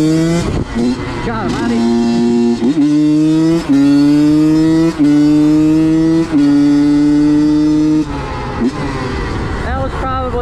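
A Honda CR85 dirt bike on its first ride revs loudly and close, its two-stroke whine climbing and dropping through repeated throttle pulls; a rider's voice exclaims briefly over the engine.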